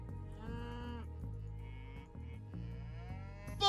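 Repeated cattle moos in the video game Age of Mythology: Retold, harmonic and drawn out, several low lowing calls in close succession with a brighter burst at the end; game-like and clean.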